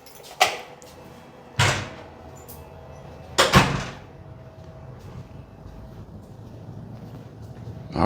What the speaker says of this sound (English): I'm gonna close that door that's in the master bedroom.